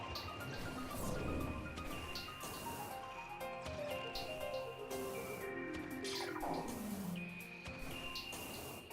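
Watery sound effect from the video game Metroid Prime Remastered, a steady layered wash of dripping, bubbling tones with gliding pitches over game music, continuous and fairly loud for the full length.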